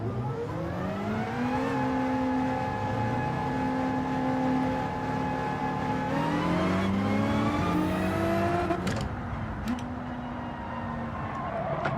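BMW race cars in a Gran Turismo World Series race, with a steady, loud engine drone holding a high gear, then revving up through shifts and accelerating, with several cars heard close together.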